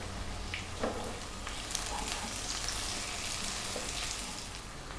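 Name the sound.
chili and ginger garlic paste frying and being stirred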